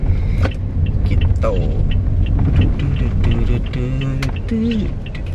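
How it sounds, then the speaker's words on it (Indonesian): Car interior while driving, a steady low engine and road rumble running underneath a person talking throughout. "Mumpung lagi nyetir nih"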